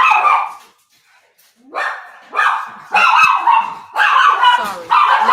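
A dog barks loudly and close by, giving a burst, then a pause, then a run of four sharp, yelping barks in quick succession, with no voices over them.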